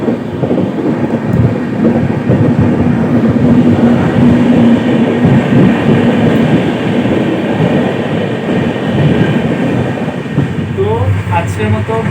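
The Puri-Sealdah Duronto Express runs through Jajpur railway station with a loud, continuous rumble and clatter of wheels on track, the steady roar filling the whole stretch.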